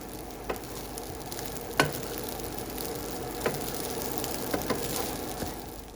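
Fried rice with eggs and bacon being stir-fried in a pan, a steady close sizzle with scattered clicks and scrapes of the utensil against the pan throughout, no voices.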